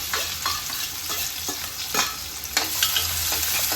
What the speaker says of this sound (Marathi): तेलामध्ये कांदा परतून घेणार आहोत